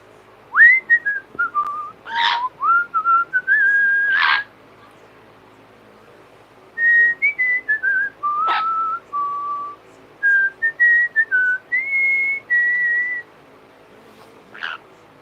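An Amazon parrot whistles a series of clear, gliding tonal phrases in bursts, pausing briefly between runs; close and fairly loud, with no talk over it.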